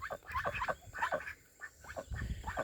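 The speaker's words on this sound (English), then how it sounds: "Here are those beautiful ducks." A flock of ducks quacking and chattering nearby, repeated overlapping calls in quick bursts with a short lull midway, fairly quiet overall.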